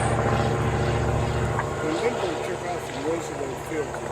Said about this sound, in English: He's going to run it up, check the magnetos.